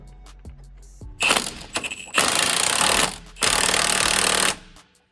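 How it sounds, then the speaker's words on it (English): A power tool drives and tightens a bolt on a truck, with a few short bursts followed by two long, loud, close rattling runs and brief pauses between them, no talking. "Finish up with tightening this bolt right here."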